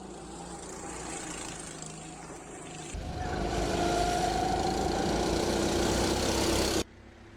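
A racing go-kart engine drones steadily during a qualifying lap, rising in pitch as it accelerates, then cuts off abruptly to a quieter background.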